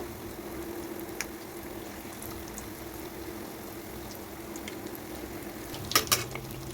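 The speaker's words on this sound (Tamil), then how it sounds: "நம்ம செஞ்சு வச்ச பால்ஸை மாவில் நல்லா எல்லா சைடும் டிப் பண்ணிவிட்டு சூடான எண்ணெயில் போட்டுருங்க" Batter-coated bonda balls deep frying in hot oil give a steady, soft bubbling sizzle throughout, with a couple of brief clinks near the end.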